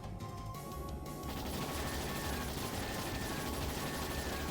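Ships open fire on a dragon in the video game Trails in the Sky SC, a dense, continuous barrage of crashing booms and impacts that fills the scene loudly throughout, with no pause or talking.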